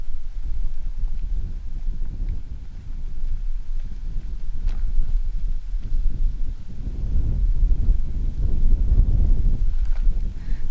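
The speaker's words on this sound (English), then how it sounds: "The wind decided to pick up as Lewis opened the wheel bag." Gusting wind outdoors on the road at the Bay of Fires, a constant low rumble of wind buffeting the microphone, swelling stronger toward the end.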